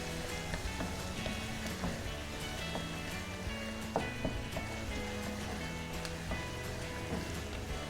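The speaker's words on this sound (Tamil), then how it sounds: "கொஞ்சம் லைட்டாக பொன்னிறம் வர்ற அளவுக்கு இதை வதக்கி கொடுக்கணும்" Radish pieces sizzle steadily as they fry in a pan until lightly golden, a continuous crackling hiss with scattered pops and no talking.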